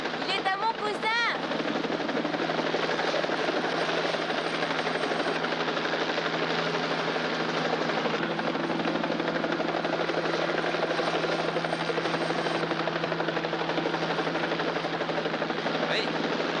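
Continuous loud helicopter rotor and engine drone, steady and close throughout, with a brief burst of other noise near the start and voices talking over it.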